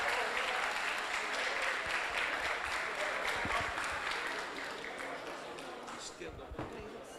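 An audience at a legal conference applauds a Lisbon law professor, a dense wash of clapping that gradually thins and fades toward the end, with a voice beginning to speak under it.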